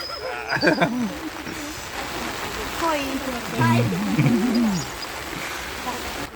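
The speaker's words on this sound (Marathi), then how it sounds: "ते पाऊस सुरू झालाय" Rain falls steadily on water in a Kerala village, a soft constant patter under nearby talking voices, with a few brief animal-like calls mixed in.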